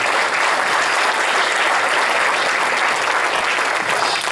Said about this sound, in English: please give these sponsors a big round of applause